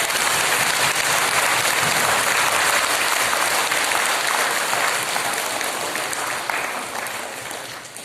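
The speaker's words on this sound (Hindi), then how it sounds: "हम परमेश्वर को ताली बजाकर उससे धन्यवाद करें" A church audience claps together in thanks to God, producing dense, sustained applause filling the room loudly and evenly, then gradually thinning and fading toward the end.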